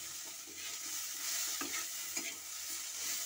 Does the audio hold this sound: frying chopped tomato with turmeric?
yes